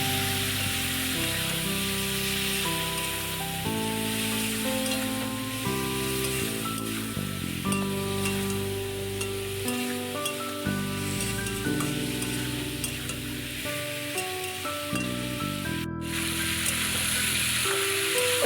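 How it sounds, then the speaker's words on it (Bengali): Elephant foot yam and hilsa curry cooking in a pan with a little water gives off a steady, soft sizzle and bubbling hiss, with a gentle stirring clatter and a light melody playing over it. "সামান্য জল দিয়ে কষিয়ে নেব।"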